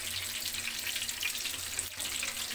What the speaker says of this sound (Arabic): تيتحمرو مزيان